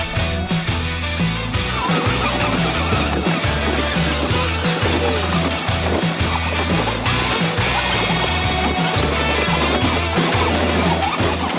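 A Gator utility vehicle with a tow truck attachment hauls big logs, its engine giving a loud, rumbling, pulsing drone throughout, close by, with no voices.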